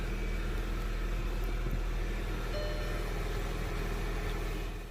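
An Audi A4 engine runs with a steady, even hum after a fresh aftermarket battery install. The sound is close and fairly loud throughout, with no talking.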